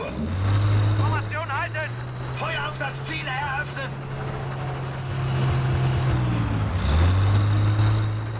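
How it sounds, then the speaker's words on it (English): A low, steady engine drone from an enemy tank in Battlefield 5 runs throughout, dipping briefly near the end before resuming. German voice callouts are heard over it. "Feindlicher Panzer!"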